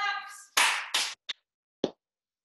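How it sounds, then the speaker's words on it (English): Self-defence class students clap in unison: after a brief voice, three loud sharp group claps follow in quick succession, then two softer isolated claps, close and clear against silence. "And three big claps."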